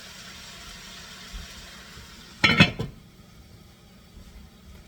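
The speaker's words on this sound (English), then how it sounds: "I think we put the lid on it and let them cook" A lid set onto a cooking pot of boneless short ribs with tomatoes, giving one brief metallic clink and rattle against a quiet kitchen background.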